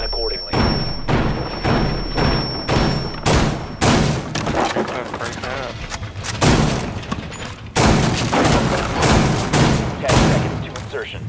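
Repeated heavy shotgun blasts in Rainbow Six Siege on the Favela map, a string of loud booming shots at irregular intervals, with voices talking over the gunfire.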